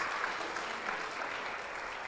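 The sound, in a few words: audience applauding the fathers in church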